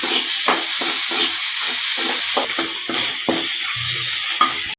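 Onions and curry leaves sauté in a hot pan, a loud, steady sizzle with repeated stirring scrapes pulsing through it, close up and without talk.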